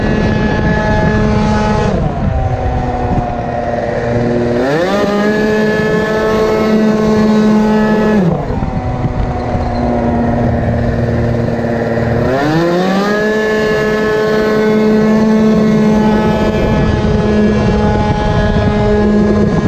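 A moped engine fitted with a 70cc Most Wicked kit and long transmission runs loud and close, its pitch repeatedly climbing and dropping as it revs.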